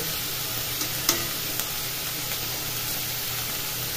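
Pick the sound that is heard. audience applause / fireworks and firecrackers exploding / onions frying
onions frying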